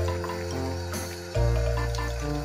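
Water pours gently from a small stream into a bath for a guinea pig, a steady close trickle that swells briefly partway through, with no voices.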